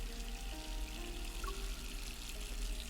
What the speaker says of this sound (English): The sound of running water mixes with his voice.